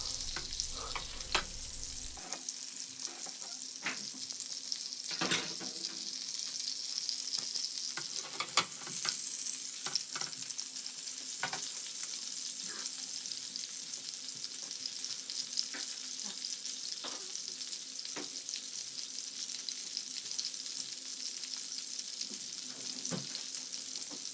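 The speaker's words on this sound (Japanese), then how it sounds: "油を取り除いて適量にして皮目をそのままきっちり焼いていきます" Duck breast frying skin-side down in a pan over medium-low heat after excess fat is poured off: a steady, close sizzle running unbroken, dotted with small pops and spatters.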